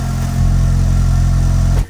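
Mitsubishi Lancer Evolution engine running steadily with a quiet exhaust, a close, even mid-pitched hum that holds for nearly two seconds and then cuts off abruptly.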